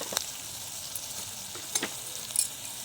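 Ginger, garlic, curry leaves and turmeric sautéing in a pan make a faint, steady sizzle, broken by a few brief spatula scrapes and taps.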